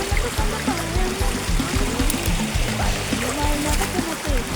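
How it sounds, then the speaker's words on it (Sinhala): A strong stream of water rushes and splashes continuously outdoors, a broad, steady gurgling flow with faint voices mixed in underneath. "වතුර පාර සැර විතරයි"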